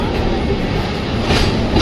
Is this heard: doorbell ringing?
no